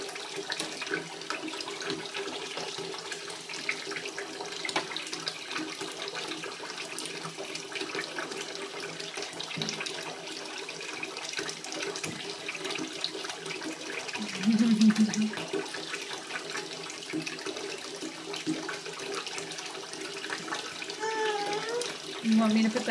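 Water running steadily from a hose while a child washes up. The gushing is close and constant, with a child's and an adult's voices briefly heard over it.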